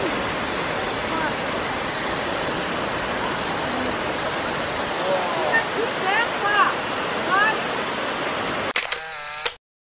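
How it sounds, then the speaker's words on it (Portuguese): Waterfall at Cachoeira das Três Bacias in Penedo, a steady broadband rush of falling water that holds loud and constant, with a few faint voices and bird-like chirps above it and a brief mechanical clatter near the end. "Essa aqui é a Cachoeira das Três Bacias."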